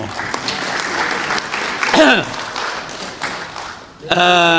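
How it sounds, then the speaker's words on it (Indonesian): Applause rises from the audience at a parliamentary hearing with Indonesia's police chief, crowd clapping mixed with a speaker's voice and a brief tonal whoop partway through, ending under a louder, sustained voice. "tepuk tangan dong"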